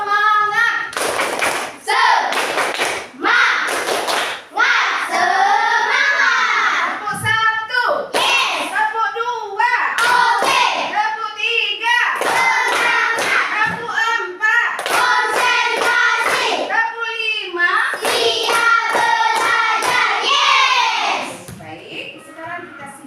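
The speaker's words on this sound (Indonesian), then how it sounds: "kita tepuk semangat dulu" A classroom of children performs a rhythmic spirit clap, loud and near, with quick patterned bursts of clapping mixed with chanting voices, continuing for about twenty seconds before trailing off.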